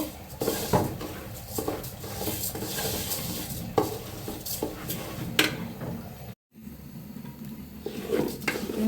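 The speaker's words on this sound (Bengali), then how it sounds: "এখন আমি চালটা কষিয়ে নেব" Rice for chicken biryani is stirred and fried in a pot, with a metal spoon scraping in irregular strokes over a soft sizzle and a brief cut of silence near the end.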